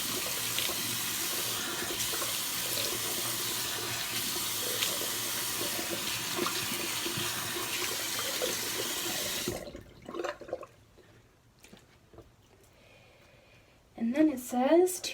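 A bathroom tap runs steadily for about ten seconds while being left to warm up, a close continuous splashing into the sink that then cuts off, followed by a voice talking near the end.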